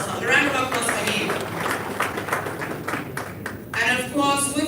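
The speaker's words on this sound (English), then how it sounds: "A round of applause for him." Meeting audience at the National Council on Works applauding a minister, a moderate patter of clapping under ongoing voices and amplified speech, swelling again near the end.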